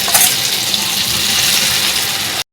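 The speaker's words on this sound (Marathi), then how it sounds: "गरम तेलामध्ये चमच्याने आपल्याला हे बॅटर अशा प्रकारे घालायचे आहे" Spoonfuls of fasting potato vada batter hit hot oil and fry with a loud, dense, continuous hiss that stays close and steady for over two seconds before cutting off abruptly. No one speaks.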